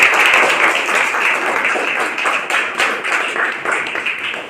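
Children clapping together at a school science exhibition, a dense, steady round of applause that carries on for the whole stretch with little variation.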